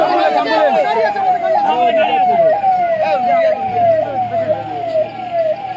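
An ambulance siren wails, rising and falling in a steady repeating cycle, loud and close, with faint traffic rumble and voices underneath during a road blockade on Basanti Highway.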